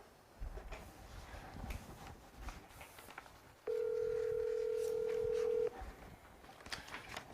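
A telephone call placed on a Korean live broadcast: faint room noise and scattered sounds, then a steady electronic ringback tone holding for about two seconds before cutting off.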